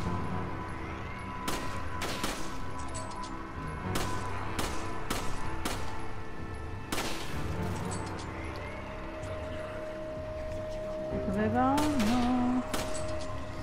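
Gunfire in the video game Resident Evil 5: several sharp, loud shots scattered through the stretch amid game sounds and music, with a tonal effect rising near the end.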